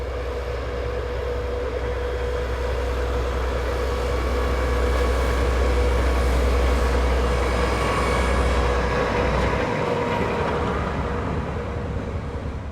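Two refurbished diesel locomotives fitted with MTU engines heading into a rail yard, a loud, deep, continuous engine rumble and rolling rail noise that stays close and steady throughout, with no voices.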